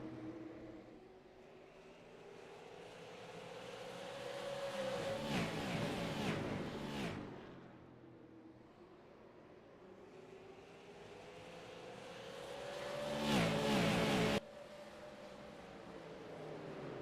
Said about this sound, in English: You gotta love the way those engines sing.